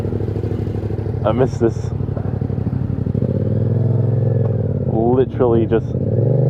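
A 2020 Yamaha MT-07 motorcycle hums steadily at riding speed with a loud, close engine drone and some rising revs, while a rider talks over it.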